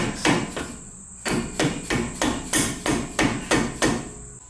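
Hammer tapping car parts back into place during work on a Honda Civic Type R FL5, about eight to ten sharp, evenly spaced metallic knocks, close and loud with no talk.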